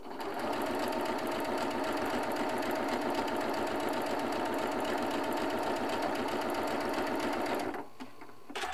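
A sewing machine chain-piecing quilt charm squares with pinked edges hums and rattles steadily at speed for several seconds, then stops abruptly.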